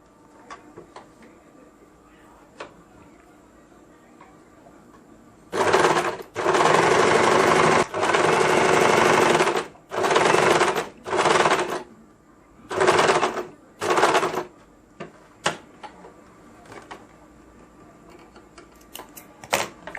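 A sewing machine stitches a blouse belt in several loud bursts of running, separated by short pauses, with faint clicks in the quiet stretches before and after.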